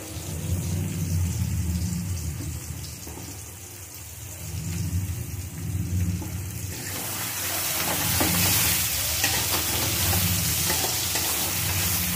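Onion and garlic fry in a pan for egg curry; a steady sizzle with faint stirring grows noticeably louder and brighter about halfway through, then continues as an intense, close crackle.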